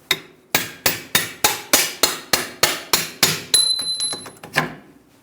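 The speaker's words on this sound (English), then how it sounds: "Using a hammer and a punch." A hammer drives a punch against a strut bolt on a 2010-2014 Subaru Outback rear shock assembly, about eleven sharp metallic strikes in a steady rhythm, close and loud, with a ringing tone near the end.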